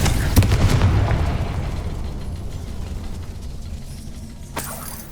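Confringo blasting spell from the video game Hogwarts Legacy: a loud, sharp blast near the start that rumbles off slowly, then a second, smaller burst near the end.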